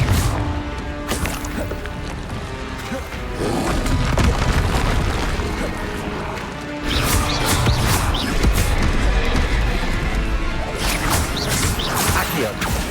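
Confringo fire spell blasts in Hogwarts Legacy, booming explosions with rumbling low end and crackling bursts around 3 and 7 seconds, amid steady combat noise and mechanical clatter.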